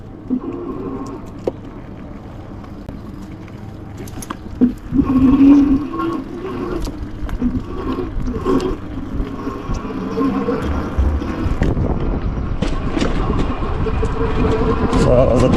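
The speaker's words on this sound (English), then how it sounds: "I'm gonna go for a ride on the grass to see how it will handle" A Bee Challenger electric bike with a 750 motor rides over grass, a low, rough whirring and rumbling that builds louder over time. Wind buffets the microphone, and someone talks over it.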